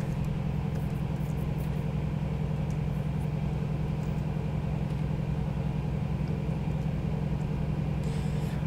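A car rolling slowly along a road, a steady low engine and tyre rumble holding even and continuous throughout, close and unbroken, with no voices.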